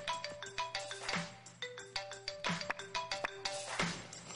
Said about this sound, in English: Switch that mobile phone off